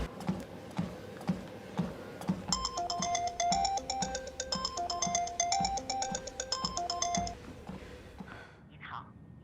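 A phone ringback tone repeats in an even beeping pattern for several seconds before a busy-line message, set over faint rhythmic tapping and a soft background hum.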